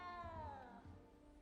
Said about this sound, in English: You don't need to be frightened,